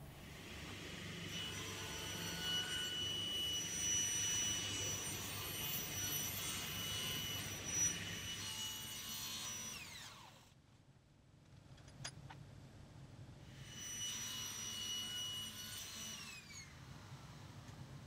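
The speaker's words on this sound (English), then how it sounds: "I found it easier to achieve crisp, straight cuts on the table saw rather than by hand with a cutting knife." Table saw cutting cork, a loud steady whining run that drops away briefly around the middle before the blade spins up and cuts again, without talk.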